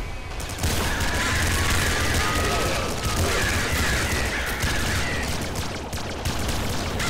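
A turret in the video game Nuclear Throne fires dense, rapid bursts of gunfire with booms and mechanical clatter. The shots are loud and continuous throughout.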